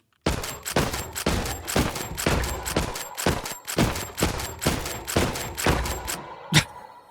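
Repeated gunshots from a gun in the Minecraft Scorched Guns 2 mod, about fifteen evenly spaced punchy shots in a steady rhythm, then a short gap and one final shot, loud and close.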